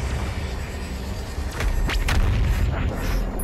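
Heavy BFG 10,000 blasts in Doom Eternal, a few booming discharges with rising whooshes that build in the middle and ring out loud and close, with no voices.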